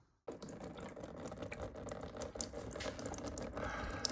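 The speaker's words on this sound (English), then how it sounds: "as soon as I started taking bolts off of speed sensor, water started coming out." Water pouring and trickling out of a Bobcat drive motor as bolts come off its speed sensor, a steady close splashing stream that runs continuously after a brief silent start.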